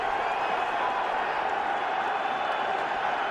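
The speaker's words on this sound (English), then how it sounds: "We got the whole crowd going crazy." Stadium crowd at an NFL football game between the New York Giants and Washington Redskins, a dense, loud, sustained roar of cheering and applause filling the space without letup.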